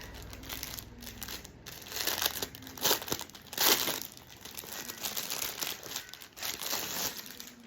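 Plastic parcel packaging crinkles and tears while a low-cost online order is unboxed, a close, busy run of rustling crackles with a few louder crunches, no talking.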